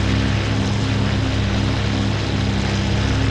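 A propeller warplane's engine drones in the IL-2 Sturmovik: Battle of Stalingrad flight game, a loud, steady, close roar that holds for a few seconds with no one talking.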